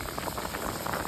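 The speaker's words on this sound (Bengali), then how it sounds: "ডালটা উতলা এসে গেছে।" Dal (lentils) boiling in a pot, a soft continuous bubbling and hissing simmer, close and even throughout a brief moment.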